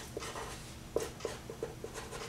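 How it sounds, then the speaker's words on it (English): A pen writing on a drinking water sampling chain-of-custody form gives quiet, close scratchy strokes in short bursts, several distinct marks spread over a couple of seconds. "you need to write your name"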